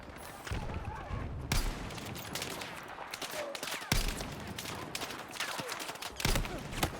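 Bursts of automatic gunfire in the video game Battlefield 6, sharp shots clustered into short runs over a dense battlefield din, with several loud reports spaced across the stretch.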